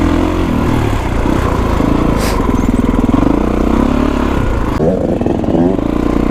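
A 4-stroke dirt bike, a KX450X, thrums loudly and close along a forest trail at Tillamook, its engine pulsing steadily with small shifts in revs and a brief rattle midway.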